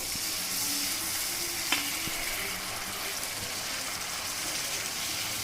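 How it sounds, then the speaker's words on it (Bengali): Mutton for a doi roast is sautéed with a splash of water, a dense, even hissing sizzle throughout with one brief knock of a utensil partway through, close and without voices. "একটু জল দিয়ে দিয়ে কষাতে হবে।"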